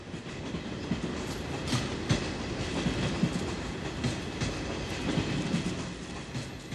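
A Trans-Europe Express train rolls along the rails with a steady rumble and recurring clickety-clack of wheels over track joints, no voices.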